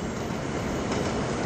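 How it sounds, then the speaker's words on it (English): A subway train passes with a loud, steady rumble and rolling clatter of wheels on rails, continuous and close with no voices over it. "That is the subway"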